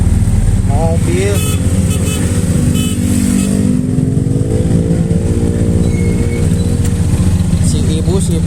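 A motor vehicle drones loudly and steadily on a night road between Bandung and Subang, as a car approaches and passes close by. People talk over the engine throughout.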